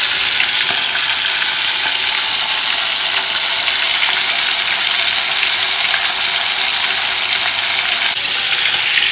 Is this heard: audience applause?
no